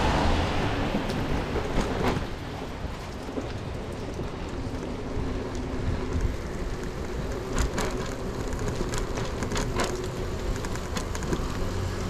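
Steady rain at night hisses continuously, with scattered drops tapping nearby on a hard surface and a low rumble underneath.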